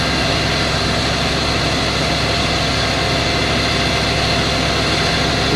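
A concrete pump truck's heavy diesel engine runs hard at high revs, a loud, dense, continuous roar with a throbbing low rumble that holds steady throughout.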